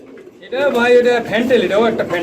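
Pigeons coo in soft, throaty bursts close up, several rolling calls in a row after a brief quiet start, at a pigeon seller's.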